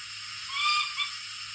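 Steam locomotive whistle from a Hornby B12 model's DCC sound decoder: a single bright, sustained shriek that swells in the middle and dips briefly before carrying on, played alone at moderate volume with a faint low hum underneath.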